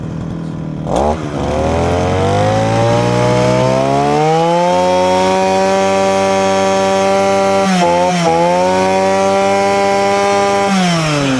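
A Husqvarna 531RS professional brush cutter engine is started and revved up to a high, steady whine, with two brief dips in speed before it drops off at the end, close and loud.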